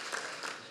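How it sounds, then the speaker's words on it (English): Short burst of audience applause at an awards ceremony, a dense steady patter of many hands at moderate volume lasting under a second. "That was cheap applause."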